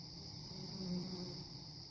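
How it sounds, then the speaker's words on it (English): A faint, steady honey bee buzz hums throughout, close and continuous around an open hive, with no voices. "got a couple bees here flying around my hands, an awful lot."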